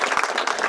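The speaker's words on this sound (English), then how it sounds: "please give them a round of applause." A brief burst of audience applause at a mayor's budget press event, dense and close clapping lasting under a second.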